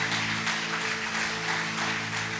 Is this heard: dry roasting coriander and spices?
no